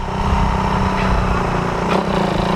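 A Suzuki Raider 150 motorcycle engine runs steadily and close, with a harmonic drone and a brief rise in pitch near the end, as if revving.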